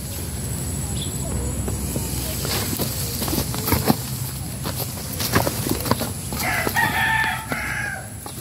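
Chickens and ducks cluck and peck while being fed fresh grass and greens outdoors, a rooster crows loudly near the end, and people talk faintly in the background.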